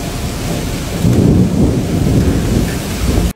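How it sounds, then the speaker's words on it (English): Heavy rain and gusting wind roar steadily, swelling louder partway through, with a deep rumbling wash underneath before cutting off abruptly, during an early-morning North Texas storm. "ferocious winds and rain swept across North Texas in the early morning"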